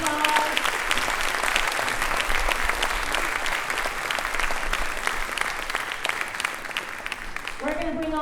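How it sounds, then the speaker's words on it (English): Audience applause fills a school winter concert hall, dense steady clapping that holds evenly throughout, with a brief voice cutting in at the very end. "Give them one more round of applause."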